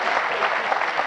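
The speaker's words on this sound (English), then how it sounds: "What about a round of applause for that?" A TV studio audience on a 1994 Grand Final footy show applauds in a brief, steady burst of dense clapping, close and fairly loud, with no voices over it.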